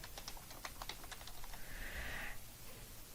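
Fingers tap out a short burst of keystrokes on a computer keyboard: quick, light, irregular clicks, faint and close, with no voices.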